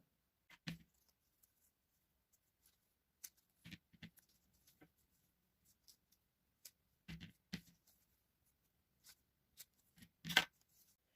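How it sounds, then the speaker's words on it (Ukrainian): Quiet, sparse snips of scissors cutting paper into strips, irregular crisp clicks spaced apart, with one louder snip near the end. "по тій лінії, що вийшла, відрізати ножицями"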